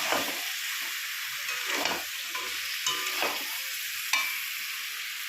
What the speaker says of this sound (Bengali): ভালো মতো নাড়াচাড়া করে করতে হবে পেস্টটা রসুন ধরে কষাতে হবে